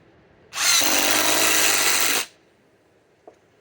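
Cordless power tool driving a 4-inch timber lock screw, one continuous loud burst of about two seconds that starts and stops abruptly, followed by a faint click.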